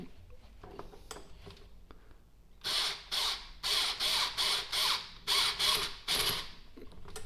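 A power driver set to a very light clutch tightens an 8mm bolt on an antenna build, giving a burst of about eight evenly spaced ratcheting clutch clicks after a few quiet seconds of faint handling noise.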